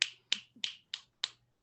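Five crisp finger snaps in a slightly uneven rhythm, close and fairly quiet, each a sharp click with a short decay, heard alone with no talking.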